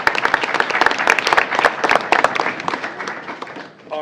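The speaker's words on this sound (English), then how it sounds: "Another round of applause." Audience at a school board meeting applauding a student of the month, dense crisp clapping from a nearby crowd that thins and fades out toward the end.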